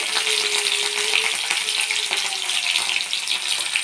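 Green chillies roast in hot oil with cumin and mustard seeds, giving a steady, close, loud sizzle and hiss that holds evenly throughout with no talking.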